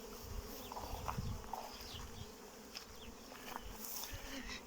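Carniolan honey bees fly in numbers around hives holding newly made splits, their steady buzzing swarm hum filling the air with no break, individual bees passing close now and then.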